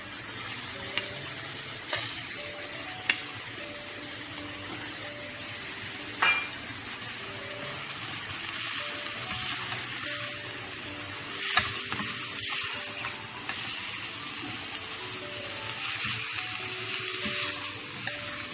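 Minced chicken and chopped coriander frying in a lightly oiled pan with sautéed onion, a steady soft sizzle with occasional clinks of a utensil against the pan throughout.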